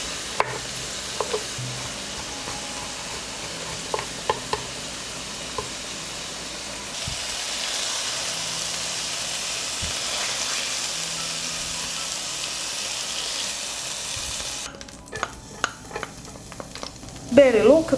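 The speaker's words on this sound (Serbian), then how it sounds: "Dok se meso prži, iseći ću 2 češnja belog luka." Chicken pieces frying in a pan crackle softly, with scattered utensil clicks. A louder, steadier sizzle swells through the middle stretch, then gives way to sharper clinks and clatter toward the end.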